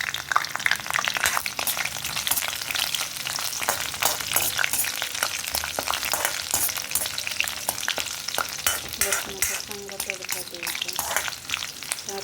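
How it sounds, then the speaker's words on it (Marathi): Curry leaves and a few garlic cloves sizzle and crackle steadily in hot oil in a pan, with occasional stirring scrapes, close and continuous throughout. "यामध्ये कढीपत्ता टाकलेला आहे हा लसूण टेचलेला आहे दोन तीन पाकळ्या थोडंसं परतू द्यायचं याला"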